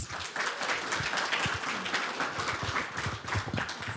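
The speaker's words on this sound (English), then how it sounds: "Let's give her a round of applause." An audience at a journalism seminar applauds, a dense steady patter of many hands clapping from across the room, sustained throughout with no voices over it.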